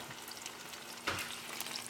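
Egg yolk sizzles and fries in a pan while a spatula stirs it, a soft continuous crackle close by with a brief scrape near the middle.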